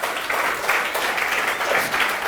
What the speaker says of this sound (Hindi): आप अपने लिए जोरदार तालियां बजाइएगा।